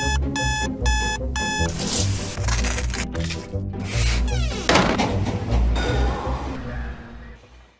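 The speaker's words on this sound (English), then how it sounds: "Sounds of Monday morning, you know, the alarm clock runs off" An alarm clock rings out in repeated bursts of beeping on a Monday morning, loud and close, blending into a busy musical backdrop that carries the ringing along.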